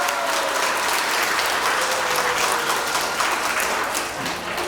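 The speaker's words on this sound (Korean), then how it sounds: "큰 박수 부탁드립니다" A crowd of members at a Liberation Day 80th anniversary event gives loud, sustained applause, thick continuous clapping from many people heard close and evenly throughout.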